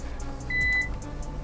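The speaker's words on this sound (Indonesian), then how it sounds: "Ditandai dengan ada bip yang bunyi dari si UPS ya." A UPS running on battery power gives off a single short, clear electronic beep over a faint background hum.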